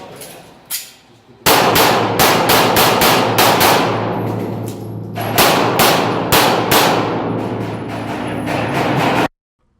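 Rapid strings of sharp, loud gunshots from a Glock pistol ring out during a shooting match stage, firing in two bursts split by a brief pause for a reload, each crack echoing hard; a voice is briefly heard before the shooting.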